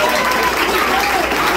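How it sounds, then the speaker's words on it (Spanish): Church congregation applauding during a worship service, a dense steady wash of clapping from a crowd that fills the whole short stretch at even loudness, with speech-like voices mixed in. "Un aplauso a Cristo en esta hora."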